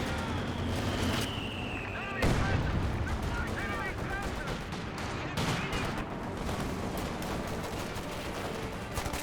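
High explosive artillery barrage in Company of Heroes 2, with repeated booming impacts and crackling gunfire, including a machine gun, over a busy battlefield din, loud and dense throughout.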